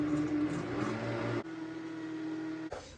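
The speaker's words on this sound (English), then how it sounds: "now I'm going to go over to my blender and blend it up" A blender runs on high, mixing cream cheese and eggs, a loud, steady motor whir that changes pitch partway through and then cuts off near the end.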